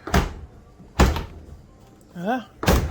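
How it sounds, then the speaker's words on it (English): A door is pushed shut repeatedly, three loud, close thuds spaced about a second apart, with a brief voiced sound between the last two. "I'm gonna close this door"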